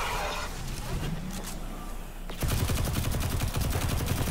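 A rifle in the video game Destiny 2 fires rapid automatic bursts, loud and close. A quieter stretch with a mixed background comes first, then a dense stream of shots that continues to the end.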